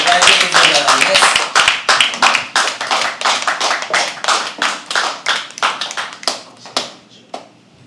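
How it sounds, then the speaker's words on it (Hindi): Audience at a live poetry open mic clapping to welcome a performer, brisk close applause that thins into scattered claps and fades out. "एक बार जोरदार ताली से स्वागत कीजिए"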